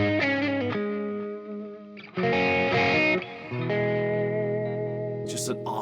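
A 335-style electric guitar on its middle pickup position rings out through effects with chorus and light distortion, sustained chords and notes ringing with a brief pause and a fresh strum partway through.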